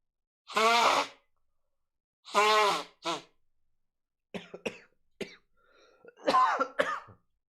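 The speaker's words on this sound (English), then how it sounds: "will say it's a dry cough" Several dry, harsh coughs from a person with Covid-19 in short bursts, then a few quieter throat sounds and breathy noises, close and otherwise quiet.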